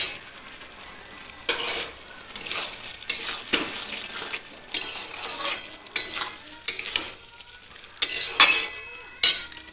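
Ghee-coated potol chingri, pointed gourd with prawns, is stirred in a pan, with repeated scraping strokes and a soft sizzle beneath, interrupted by occasional clinks of a spoon against the metal.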